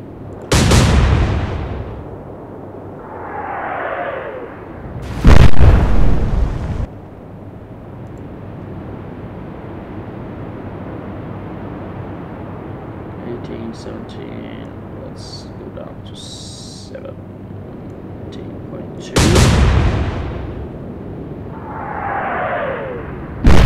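Heavy naval guns boom in a World War II-era naval strategy game, with loud blasts near the start, again at about five seconds and near the end, each followed by a whistling shell trail, over a steady background rumble.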